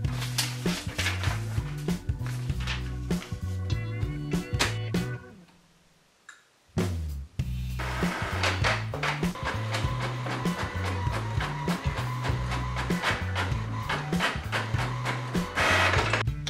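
An HP Envy 6000-series inkjet printer making a copy runs with rhythmic mechanical whirring and clunking, pauses briefly, then resumes its repeating feed-and-carriage pattern. No one speaks.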